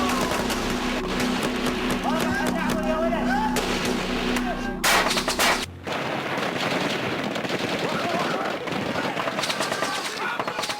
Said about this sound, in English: Ambushed and taking heavy enemy fire